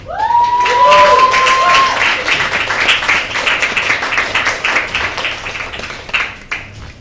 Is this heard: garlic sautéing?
no